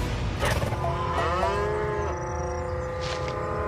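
Cattle lowing in long, drawn-out moos with a wavering tone, loud and fairly close, a few calls running into one another over a low outdoor background.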